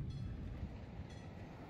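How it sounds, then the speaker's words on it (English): A loud train passes nearby, a steady rolling rumble with faint rail clatter filling the whole stretch, with no voices over it. "This fucking train is so loud."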